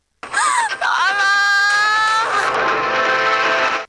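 A woman in labour moans and wails in pain, one long, loud, drawn-out cry that wavers and rises, heard up close and alone.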